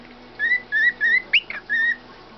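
A pet bird named Meeko whistles a series of clear, slightly rising notes at close range, with a quick squawky chirp partway through before one more whistle rounds it off.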